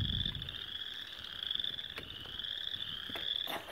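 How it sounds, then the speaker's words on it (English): Frogs croak in a steady, close chorus outdoors during a pause on a morning bike ride, a continuous high-pitched trilling that runs throughout with no talking. "Those are the frogs in there."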